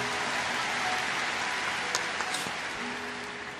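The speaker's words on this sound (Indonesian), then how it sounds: "kita berikan tepuk tangan untuk Roh Kudus" A congregation applauds during a church service, a dense, steady wash of clapping from many hands that carries on without a break and fades slightly toward the end.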